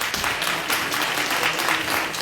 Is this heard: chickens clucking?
no